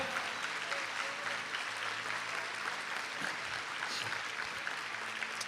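A congregation in church applauds during a service, a steady, even wash of clapping from many hands throughout, with faint voices mixed underneath.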